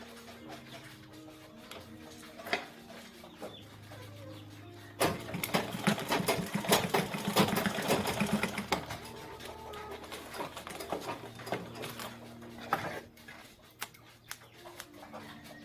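Sewing machine stitching fabric for a DIY ladies shoulder bag, a fast steady mechanical whir that swells louder for several seconds in the middle, then gives way to quieter handling clicks.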